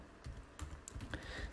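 Typing an email address on a computer keyboard, a few soft scattered keystrokes, faint and close with no talk.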